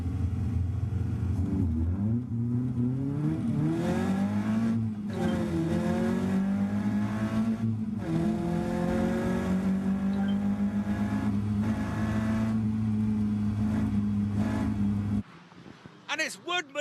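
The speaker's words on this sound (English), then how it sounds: "On the grid with 25 other cars for that all-important start" Caterham race cars pull away from the grid at the Snetterton circuit, their engines rising in overlapping revving climbs and gear changes, loud and sustained under continuous commentary.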